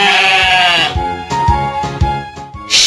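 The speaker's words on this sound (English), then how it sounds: "Sheep." Sheep bleats sound close and loud in a kids' animal puzzle game, a long wavering cry followed by several shorter stuttering bleats.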